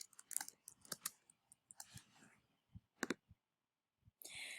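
Computer mouse clicking on a web page: a few faint, sharp, separate clicks close up in a quiet room, with no talk.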